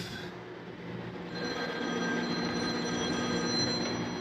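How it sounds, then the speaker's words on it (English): A telephone rings faintly in the background of a York rooftop HVAC unit service job, a steady electronic tone sitting under a constant loud mechanical hum, with no talk. "Phone calls."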